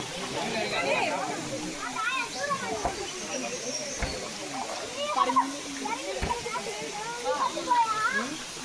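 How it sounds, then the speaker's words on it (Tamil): Kiliyur Falls in Yercaud, a continuous rushing waterfall with splashing water, heard alongside children playing and people talking nearby throughout. "இப்போ வந்து நம்ம இருக்கிற இடம் ஏற்காடில் இருக்க கிள்ளியூர் ஃபால்ஸ்"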